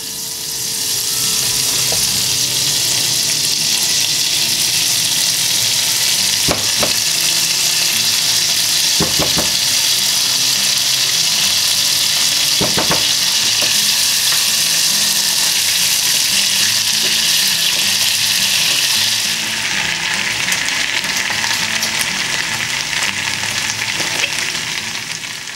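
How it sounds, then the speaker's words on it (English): Garlic roasting in a hot pan as the base for a buffalo sauce, a loud continuous frying hiss with a few faint clinks, growing harsher near the end, no talk. "Time to roast some garlic and make our sauce"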